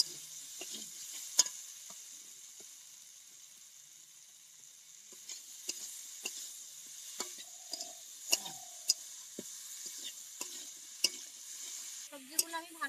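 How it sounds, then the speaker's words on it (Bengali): Vegetables with half a spoon of sugar being stir-fried in a pan for pea ghugni: a soft low sizzle broken by scattered sharp clicks and scrapes of the spatula, quiet and close. "আরো একটু ভালোভাবে আমি কষিয়ে নেবো এগুলো।"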